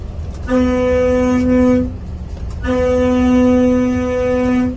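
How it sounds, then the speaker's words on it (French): Twin air horns on a Volvo FH truck blare in two long, loud, steady blasts separated by a short pause, heard close up. "Là, il y a 2 trompes de malades au-dessus."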